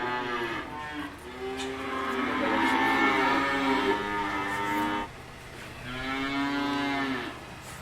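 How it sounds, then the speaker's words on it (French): Calves mooing inside a farm barn where young calves are housed, several long drawn-out bellows close by, one after another with a short gap, no talk over them. "Donc là c'est ici où il se trouvent les veaux"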